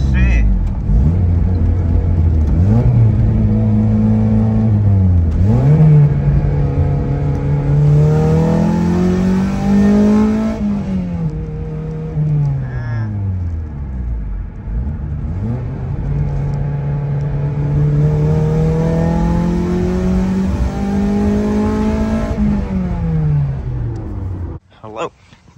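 A K20-swapped car with new headers revs hard through repeated rises and falls. The engine is loud and close, and it cuts out abruptly near the end, with a voice briefly heard.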